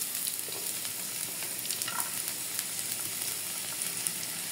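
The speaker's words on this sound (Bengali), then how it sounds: "একটু তেল দিয়ে দিলাম, কিছু পেঁয়াজ এবং রসুন দিয়ে দেব।" Onion and garlic fry in oil in a pan for a chicken curry masala, a soft, steady crackling sizzle heard up close with faint stirring ticks and no voices.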